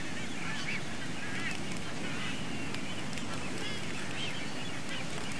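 A dense chorus of honking, braying calls from a large waved albatross colony, with blue-footed boobies, swallow-tailed gulls, frigate birds and red-billed tropic birds, overlapping continuously with a steady wash of background noise.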